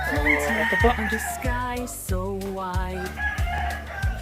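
Laying hens on a Philippine poultry farm of about 1,200 birds, with loud nearby crowing and clucking in overlapping calls, while someone talks briefly.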